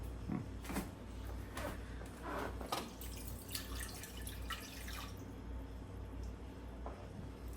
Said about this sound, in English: I'll fill the can with some water and then I'll add it to the mix